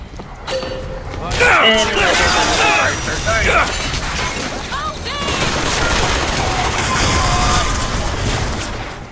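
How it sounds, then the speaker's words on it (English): Gunfire and mechanical weapon sounds in the video game BioShock Infinite, rapid loud shots and clattering mechanisms mixed with game effects, with voices talking over them. "Keep shooting! No reprieve for you!"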